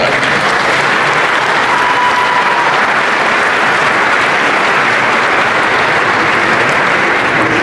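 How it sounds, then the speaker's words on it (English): Sustained applause from a luncheon audience at an annual awards event, steady and dense clapping filling the room for several seconds without a break. "Let's give him another round of applause."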